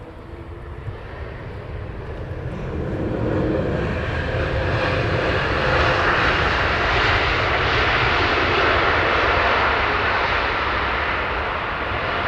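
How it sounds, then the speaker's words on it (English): A Thai Airways Boeing 787 Dreamliner taxiing past at Heathrow Airport in the evening, a broad steady jet engine roar that swells and holds loud as it nears, no talk. "then we'll pan around to the Thai Dreamliner, which is going to be taxiing past us in a minute"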